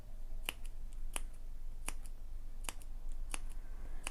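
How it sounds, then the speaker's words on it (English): Fabric scissors making a series of crisp snips into the fabric of a sewn bag, about six separate cuts spaced roughly evenly, close and clear over a low steady hum. "Just add a few snips in first."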